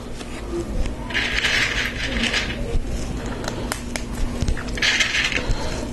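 Lego Technic pieces for a Porsche 911 GT3 RS set, including a 3x11 panel, click and rattle as they are handled. Light plastic clatter and a few sharp ticks come close up and steady, with two brief bursts of rustling.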